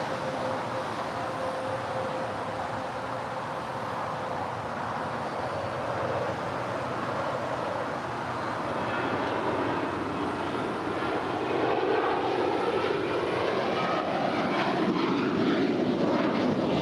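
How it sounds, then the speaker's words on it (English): Alaska Airlines airliner taking off down runway 25 right at LAX: a steady, broad engine roar that swells gradually as the jet rolls, heard from a distance with no talk over it. "Alaska Airlines Flight 546 heading to Newark is now rolling down 25 right."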